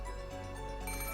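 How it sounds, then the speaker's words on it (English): A phone rings in a visual novel game, a steady faint electronic ringtone tone sustained over soft background music. "how long are they gonna keep the phone ringing?"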